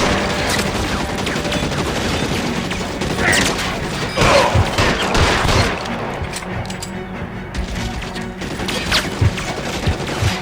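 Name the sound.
gunfire in L.A. Noire video game shootout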